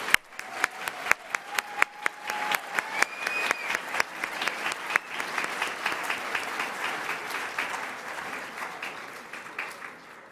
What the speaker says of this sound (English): Let's give these powerful Latinas a round of applause.